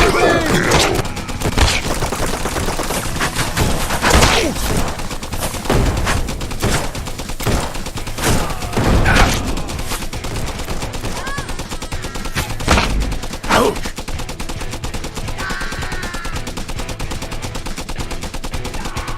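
Repeated gunshots and bursts of gunfire come from the VR shooter game Guns 'N' Stories: Bulletproof. Sharp, loud cracks arrive in irregular clusters over a background of game sound and music.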